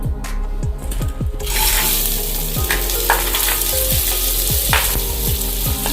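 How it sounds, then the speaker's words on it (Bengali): Soaked rice tipped into a hot pan for navratan pulao, giving a continuous close frying sizzle with repeated clinks and scrapes of a spoon against the pan. "এটা আমি চালটা দিয়ে দিচ্ছি"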